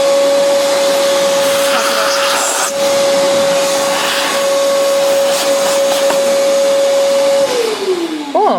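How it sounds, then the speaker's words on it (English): A vacuum cleaner cleans the chute of a Nuova Simonelli MCI coffee grinder, running loud and steady with a constant whine and no talk, then winds down in pitch at the end. "take the vacuum again"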